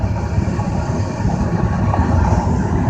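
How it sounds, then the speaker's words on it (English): Freight train locomotives in Erie, Pennsylvania roll past close alongside, a loud, continuous low rumble with steady rolling noise and no voices. "Just going right alongside the engines of this train."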